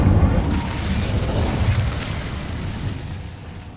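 An Incendio fire spell is cast in Hogwarts Legacy, a loud, rumbling burst that erupts at once and then slowly fades over several seconds.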